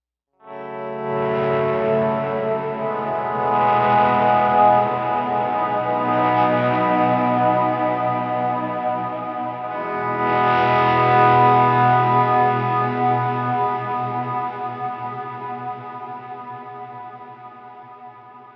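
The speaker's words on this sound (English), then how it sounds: "Snapshot 3 has both drives on, but a lot more reverb, a lot more delay, and it sounds like this." A Gretsch electric guitar with Filtertron pickups plays through an overdriven preset with both drives on, washed in heavy reverb and delay, sustaining chords that swell and ring out into a long decaying tail, heard alone.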